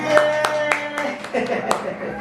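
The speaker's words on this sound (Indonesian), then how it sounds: "Kita kasih tepuk tangan." A few scattered hand claps ring out for a tutor at a community learning center session, sparse and uneven, mixed with talking and background sounds.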